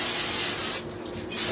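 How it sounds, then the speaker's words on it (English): Pam olive oil cooking spray misted onto pans, a loud close hiss in two bursts separated by a short pause. "I'm gonna spray all the pans with this"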